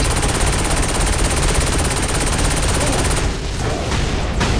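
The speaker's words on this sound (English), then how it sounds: "Who is shooting at me?" Dense, continuous gunfire from the Saints Row 4 video game: rapid overlapping shots blending into a loud, unbroken roar that eases slightly near the end.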